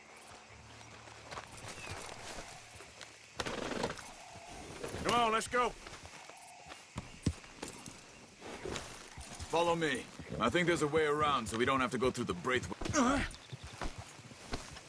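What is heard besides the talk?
horse hooves clip-clop in video game Red Dead Redemption II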